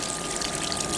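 An aquarium overflow box gives off a steady, close rushing trickle of water that holds at an even level throughout without a break.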